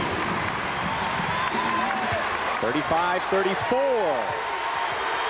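A Wisconsin Badgers home crowd at a college basketball game against Michigan roars and applauds in a steady wash beneath a commentator's play-by-play.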